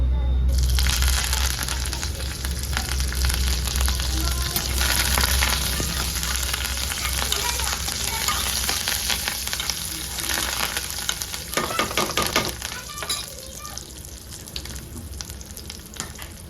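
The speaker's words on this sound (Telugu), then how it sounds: "ఇప్పుడు కరివేపాకు వేస్తున్నాను" Curry leaves sizzling in hot tempering oil: a loud, steady crackling fry close by that holds for the whole stretch, with occasional stirring.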